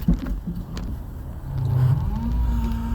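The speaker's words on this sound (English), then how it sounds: "See this Sprinter van pulling this trailer?" A Sprinter van towing a trailer drives by on the road, its engine rising to a steady louder drone partway through as it passes close, with no one talking.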